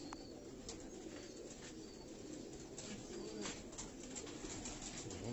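Haji Muhammad Yusuf's Rani pigeons coo on a Karachi rooftop, a steady chorus of soft, low burbling calls close by, with occasional faint chirps and wing flutters.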